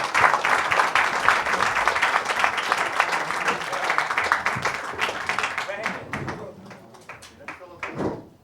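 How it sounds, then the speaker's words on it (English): Audience at a UFC 166 post-fight press conference breaks into applause, dense clapping that thins out toward the end into scattered claps, with a voice speaking over it. "Everybody clap it up for Kane."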